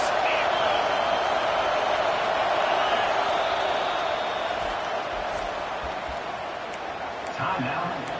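A football stadium crowd cheers for the defense in a game involving Texas, a broad, steady roar from a large crowd that fades slightly toward the end, under continuous commentary.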